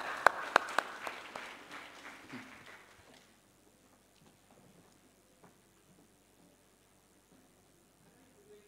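Brief burst of applause from an audience at a live-streamed event as a guest comes on stage, a few sharp claps fading out within about three seconds into near quiet.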